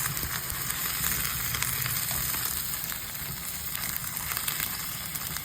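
Squash and coconut milk simmer in a pan while being stirred, a steady close sizzle and bubbling hiss with no talk, for a Filipino ginataang sitaw kalabasa.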